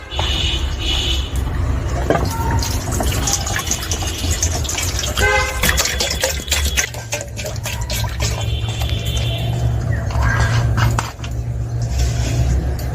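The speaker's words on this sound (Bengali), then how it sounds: "এবার গামলির মধ্যে জল দিয়ে দেব" Water pours into a bowl while making mango pickle in a kitchen, a steady gushing fill running continuously at close range, with clinks and faint background noise over it.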